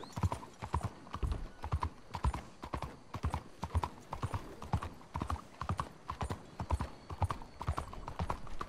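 Horse hooves clip-clop in a steady, even rhythm at a moderate pace, a repetitive trotting loop from Red Dead Redemption 2 without any voices.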